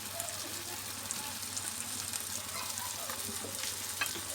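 Garlic ginger paste fries in oil with a faint, even sizzle and a low steady hum beneath it. Scattered soft pops break through the sizzle now and then.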